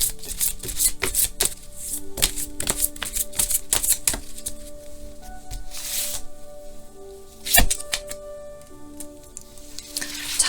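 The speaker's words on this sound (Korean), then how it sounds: "조언 카드 하나 뽑아 볼게요." Tarot cards being shuffled and drawn by hand, a run of crisp, close ticking snaps and riffling slides with soft rustles between, one louder flick near the end, over a faint sustained tonal background.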